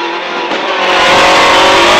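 Rally car at full throttle on the Husów special stage of the 2011 Rzeszów Rally, drifting through a corner; a loud, steady engine roar that swells and holds close by, with no talk over it.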